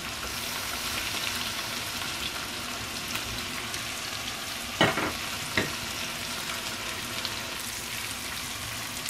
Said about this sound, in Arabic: دابا خديت كسرونه ولا مقله اللي غدرت فيها الزبده واحد المعلقه كبيره، وغادي نضيف عليها هاد السبينازي بعد ما طلقات.